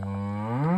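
A single long, loud moo from cattle on a farm, close by, rising in pitch toward the end.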